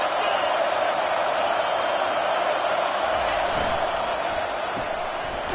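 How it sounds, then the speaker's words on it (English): A stadium crowd at a football game roars on third down, a loud, dense and unbroken wall of cheering that holds steady throughout. "3rd down, and this crowd is tearing the lid off this place."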